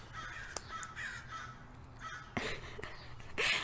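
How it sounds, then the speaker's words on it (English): Crows caw outdoors, heard from inside near a window: a few scattered harsh calls at moderate distance, with a couple of sharp knocks and low background noise. "Hear these crows."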